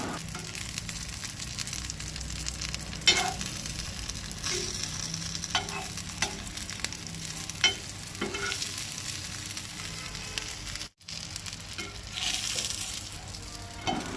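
Muddoshi fish frying in a Goan kitchen, a steady close sizzle with occasional scraping clicks as pieces are turned over, and a brief dropout near the end.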